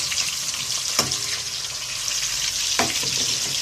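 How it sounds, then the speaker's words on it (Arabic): Onion frying in oil and a spoonful of ghee, a loud constant bright sizzle with two brief knocks from a utensil, close, no speech. "انا حاطه هنا شويه زيت وحاطه معلقه سمنه بلدي، قدحتهم كويس ونزلت بالبصله"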